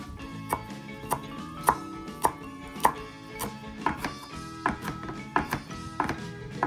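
Fresh basil leaves being finely chopped with a knife on a cutting board: about a dozen crisp, evenly spaced knife taps in a steady rhythm, close and clear, with no talking.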